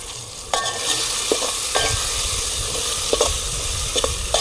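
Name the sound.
stirring salt into frying ridge gourd curry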